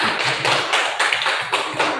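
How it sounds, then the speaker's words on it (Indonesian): Students in a classroom applaud, a loud, continuous burst of clapping close by, with surges of dense hand claps running through the whole short stretch and no voices. "beri tepuk tangan dulu"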